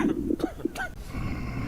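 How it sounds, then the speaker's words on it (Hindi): An infected zombie in a video game coughs and hacks several times in quick, close bursts, with a throaty rasp and a brief hiccup-like catch, followed by a low, breathy background hum. "हिचकी लेगा, खांसी ले रहा है"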